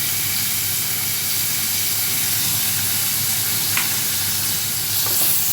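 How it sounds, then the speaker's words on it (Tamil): Tomatoes sautéing in a pan for vegetable rava kitchadi produce a loud, continuous frying sizzle and hiss that stays even throughout, with no voices. "தக்காளி சேர்த்து வதக்கியாச்சு"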